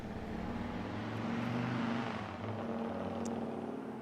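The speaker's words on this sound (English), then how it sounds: "I heard a car go by" A car engine hum swells and fades as a vehicle passes by at moderate distance, a low steady drone with no voices.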